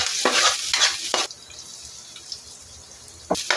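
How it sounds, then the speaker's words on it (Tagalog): Chopped garlic sautéing in cooking oil in a pan for a mussel dish, heard as a few close bursts of crackling sizzle and scraping stirs that give way to a quieter lull before another short sizzle at the end. "sa kawali guys maglagay tayo ng mantika tapos uh, mag, magigisa tayo dito ng bawang"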